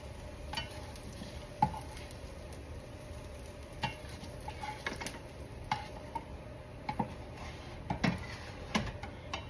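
Hash browns frying in a pan for an old-fashioned breakfast, a quiet steady sizzle broken by scattered sharp ticks and clinks from stirring, with no one talking.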